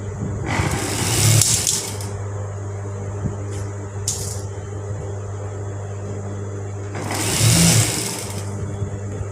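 A sewing machine stitching a shirt seam while a shirt is being taken in to a smaller size runs in two close, loud bursts, each lasting a second or two, over a steady low hum with a quieter gap between.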